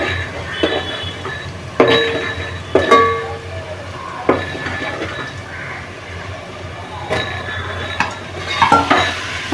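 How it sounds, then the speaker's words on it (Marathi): Garlic sautés in a pan for Bhandari-style mutton sukka, a steady close sizzle broken by several sharp scrapes and clinks of a spoon stirring against the pan. "लसूण जरा परतून घेऊ आणि मग कांदा घालू।"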